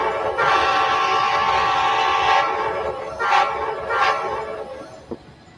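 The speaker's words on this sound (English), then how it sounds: "we're pulling the train out of Barstow, and we're just touched the main line" A train pulls out of Barstow onto the main line toward Cajon Pass. Its horn sounds one long, loud blast and then two shorter ones over a steady rail rumble.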